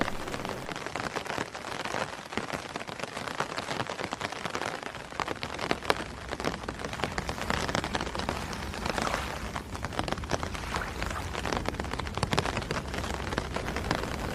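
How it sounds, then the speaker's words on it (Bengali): Rain pouring at night in a Bengali cartoon ghost story, a dense, continuous patter of drops hitting surfaces that swells and crackles unevenly throughout, with no talk. "এ বৃষ্টি স্বস্তি না দিলেও আরও ভীতিকর পরিবেশ সৃষ্টি করেছে।"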